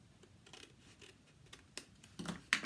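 Scissors trim excess paper on a handmade folded star column card, giving a few quiet, close snips and paper rustles, growing slightly louder toward the end.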